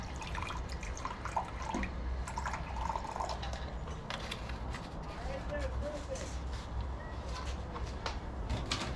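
About 100 milliliters of distilled water poured from a container to make a chelation solution for restoring an 1839 French naval cutlass, a trickling, dripping pour at close range with someone talking over part of it.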